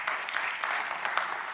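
Applause from the audience at a Clark County Commission meeting: a short burst of scattered clapping, moderately loud and uneven, with no voices over it.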